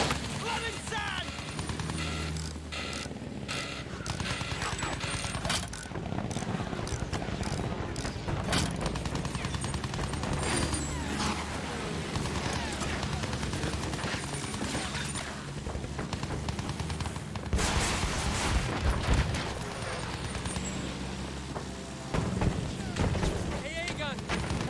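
Anti-aircraft gun and gunfire in the Battlefield 1 video game during an attack on a zeppelin, dense rolling bursts and booming explosions amid battle noise, with shouted voices over the din.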